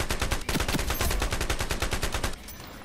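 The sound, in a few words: gunfire in video game IronSight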